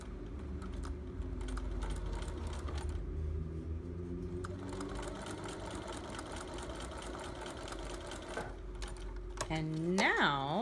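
A sewing machine runs a steady whirring hum while stitching quilt binding with a half-inch seam, continuous and fairly quiet, followed near the end by a brief rising mechanical whine.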